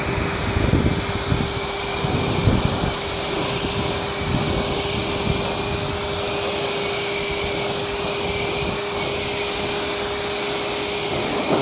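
Water sprays hard and steadily for the whole stretch, rinsing cleaner and old dressing off a car wheel and tire. The hiss is loud and continuous, and no voice is heard.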